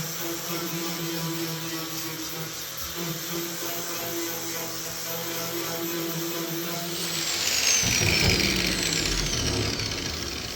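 A dent puller works on a truck body panel, a C10, burning off the paint. It gives a steady electrical buzz and hum with a hissy edge, which swells and roughens louder toward the end.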